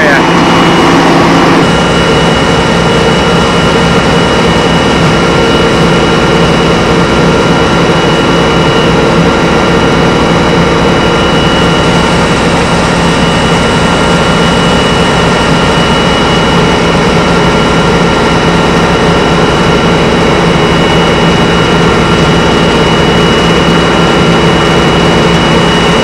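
An auger and roller mill run loudly and continuously while processing high-moisture corn into a bunk on a farm, producing a steady heavy mechanical drone and whine throughout, with a voice speaking over the machinery.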